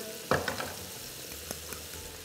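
Bones and vegetables sizzle in a frying pan while a spoon stirs them, giving a quiet crackle with an opening scrape and a few soft knocks against the pan.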